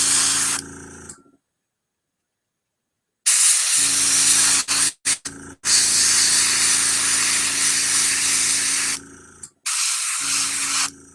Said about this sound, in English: A little precision airbrushing here.